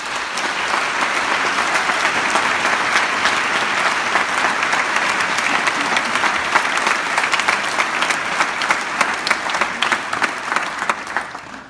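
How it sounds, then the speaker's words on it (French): Audience applause at an evening event for a Catholic charity supporting Lebanon, a dense, steady clapping from a large crowd that keeps going for around twelve seconds and fades slightly at the end. "on peut les applaudir."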